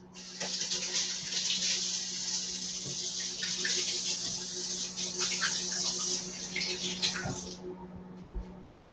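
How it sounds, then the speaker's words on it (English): Water runs steadily from a kitchen tap as hands are washed, a close continuous splashing hiss lasting about eight seconds before shutting off, followed by a faint clink. "I'm just going to wash my hands."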